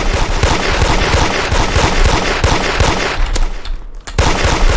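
Rapid bursts of gunfire from a shooter video game, loud and dense, with repeated automatic shots and overlapping reports running nearly continuously, a brief lull near the end before shooting resumes.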